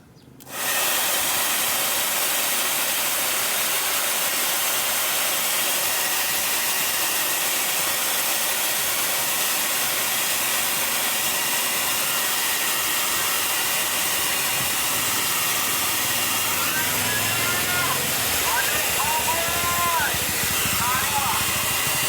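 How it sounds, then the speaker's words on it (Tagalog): A powerful blower drying a wet baby bottle sterilizer under repair switches on and runs with a loud, steady rushing hiss for a long stretch, close by, with a faint voice underneath near the end. "i-blower muna natin yung basa para mabilis siyang matuyo"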